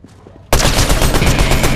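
Rapid loud gunfire bursts out suddenly after a quiet half second in Fortnite, a dense automatic stream of close shots that continues to the end.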